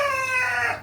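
A silver penciled rock chicken, recovering from feed poisoning, gives a short, loud, close call with strong harmonic ringing that trails off after under a second, heard alone.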